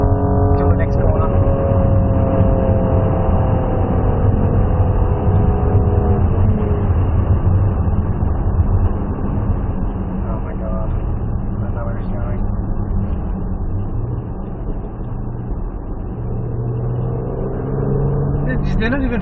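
A race car at a track day on an Australian circuit accelerates hard down a straight, its loud engine droning continuously near the microphone with shifting pitch, and voices talk over the noise.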